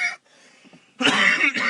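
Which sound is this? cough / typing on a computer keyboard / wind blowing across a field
cough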